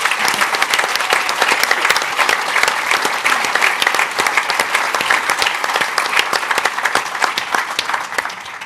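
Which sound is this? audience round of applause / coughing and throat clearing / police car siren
audience round of applause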